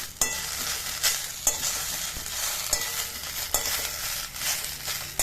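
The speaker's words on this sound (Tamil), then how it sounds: "நான் வெறும் வானலியில தான் இந்த கருவேப்பிலையை போட்டு நல்லா மொறுமொறுன்னு வர வரைக்கும் நம்ம வறுத்துக்கலாம்" Curry leaves dry-roasting in an empty kadai until crisp give a steady dry crackle and rustle, with sharp scraping strokes of a spatula about once a second, close and fairly loud, no voices.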